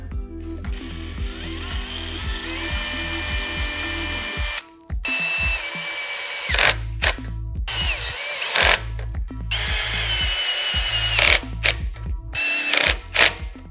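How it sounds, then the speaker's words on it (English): Power tool driving torque screws into the side rail of a Prinsu roof rack on a Can-Am Maverick X3, rapid ratcheting impact bursts that stop, pause and start again, loud and close with brief gaps of quiet. "we're gonna put these torque screws into the side and mount it to the side rail"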